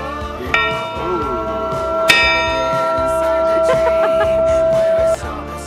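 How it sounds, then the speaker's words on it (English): At Enoshima, the Dragon's Love Bell is struck twice, each strike a bright metallic clang followed by a long ringing tone that lingers and fades, heard close with faint outdoor background. "so we just rang the bell"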